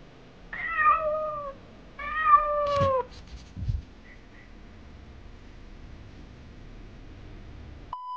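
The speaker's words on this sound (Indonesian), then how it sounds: "Dia sebenarnya meong-meong dari tadi" A cat meows twice in drawn-out, wavering calls, close and clear, followed by a few soft knocks and a quiet room.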